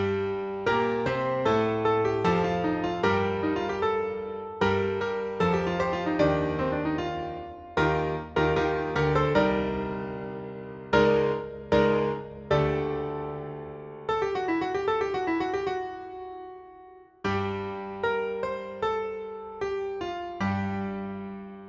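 Piano reduction of a small marching band's opening hit, played as dense, ringing chord strikes in a steady rhythm with brief pauses, sustained notes and a final held chord.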